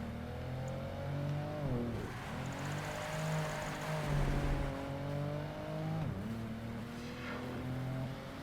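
A car engine in the racing video game Project Gotham Racing 2 revs up in repeated rising sweeps, easing off briefly between pulls, with a steady droning tone underneath and no talking.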